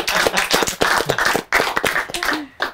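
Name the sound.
people clapping hands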